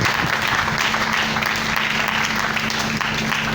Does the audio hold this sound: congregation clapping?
yes